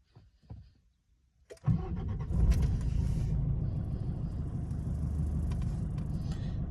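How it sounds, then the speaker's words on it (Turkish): A Nissan Navara engine cranks after a quiet moment, catches abruptly and settles into a steady, fairly loud idle rumble close by. "Evet şu anda marşıma basıyorum."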